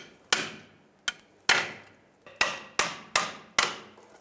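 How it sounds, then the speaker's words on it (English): A hammer strikes a long pry bar to knock a single-use clamp off an inner tie rod on a 2003-09 Toyota 4Runner, giving seven sharp metallic blows with short ringing decays at an irregular pace. "I'm going to use a hammer with a long pry bar and basically just"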